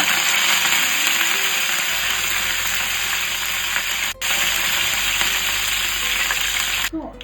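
Curry leaves sizzle and crackle in hot oil, added after cumin and seasoning seeds while tempering for a garlic-chilli cluster-bean dish; a steady, loud broadband hiss runs throughout, with a brief dip near the middle.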